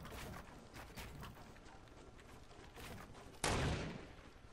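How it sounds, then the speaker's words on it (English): Scattered gunfire in a shooter game, soft distant pops in the background, then one sudden loud close blast that rings out and fades. "Ooh, I got shot at."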